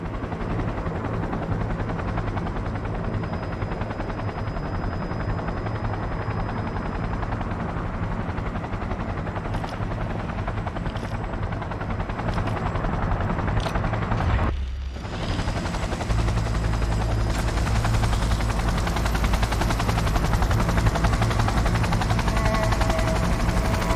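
An aircraft takes off in the Cyberpunk 2077 video game, a loud steady rotor-like engine roar that drops out briefly near the middle and then returns stronger and fuller, with no speech over it.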